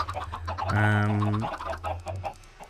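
A Minecraft chicken gives a drawn-out cluck over a low steady hum, followed by quieter scattered clucking and clicks; the sound is slightly synthetic.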